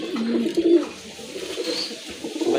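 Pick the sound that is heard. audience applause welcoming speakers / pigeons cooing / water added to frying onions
pigeons cooing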